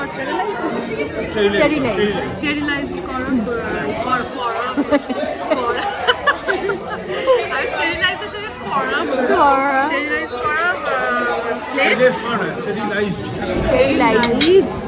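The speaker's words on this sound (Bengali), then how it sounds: "ওইদিকে একটা বার্থডে পার্টি হচ্ছে, যেন হইচই হচ্ছে" A birthday party commotion at Beijing, a Chinese restaurant in Kolkata: a steady babble of many voices with loud bursts, plus clinking dishes and cutlery nearby, continuous throughout.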